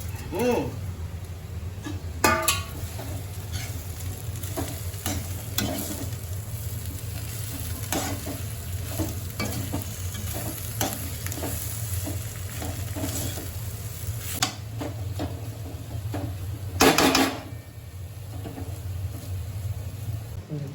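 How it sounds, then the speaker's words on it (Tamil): Steady sizzling from a pan with repeated scraping and stirring strokes, a few louder clanks, continuous throughout. "இந்த மாதிரி வச்சிருக்க வெண்டைக்காயை இந்த மசாலாவில் மிக்ஸ் பண்ணுறோம்"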